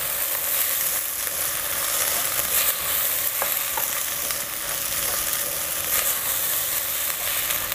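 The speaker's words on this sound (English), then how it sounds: "So you want to mix it in the oil for a couple of minutes, or a minute" Turmeric-coloured rice is stirred through sizzling oil for a cumin vegetable pulao, giving a steady, close frying hiss with soft scraping from the stirring and no voices.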